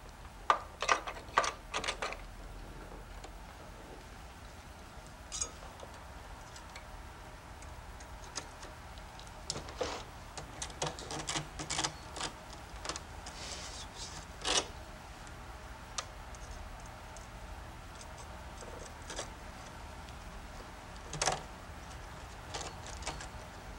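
Knitting needles clicking against each other while working stitches on a skirt, scattered light ticks in irregular clusters, close and fairly quiet.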